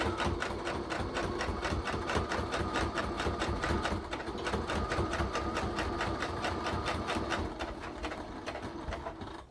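A sewing machine stitches a buttonhole on a scarf, running in a steady rapid chatter of needle strokes that holds loud and even throughout, close up with no talking.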